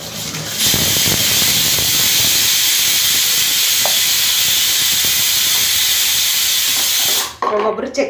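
A pressure cooker steams with sprouted grains inside, giving one long loud hissing whistle that holds steady for about seven seconds and then cuts off sharply, with a few quieter kitchen noises after it.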